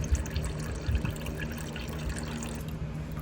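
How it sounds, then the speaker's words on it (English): Coolant trickling and dripping from the drain of a 2004 Cadillac DeVille during a water pump replacement, an uneven patter of drops and a thin stream, close by, with no talking. "Oh, it just started dripping again."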